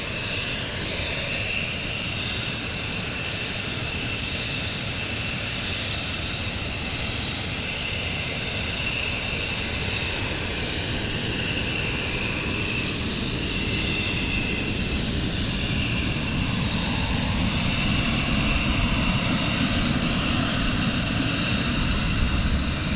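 An F-15 jet taxis past on the ground at RAF Lakenheath during a morning launch, a steady, loud engine roar and whine that holds close and swells slightly toward the end, with no talking.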